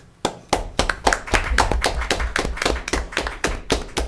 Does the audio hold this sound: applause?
yes